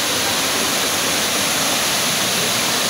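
Busay Falls, a waterfall in Guinayangan, Quezon, roars as a dense, steady rush of falling water close by, loud and unbroken with no voices.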